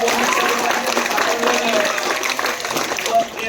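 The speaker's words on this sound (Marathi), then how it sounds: "त्यासाठी जोरदार टाळ्या होता" Quiz-competition audience applauding to reward a team's first point, steady dense clapping filling the whole stretch with a voice faintly audible underneath.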